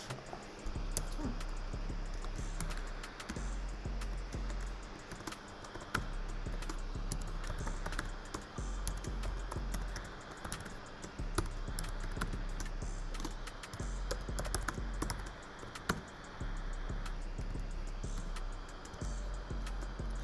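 Steady typing on a computer keyboard, a long run of close, clicky keystrokes in an uneven rhythm over a low constant hum, with no talk.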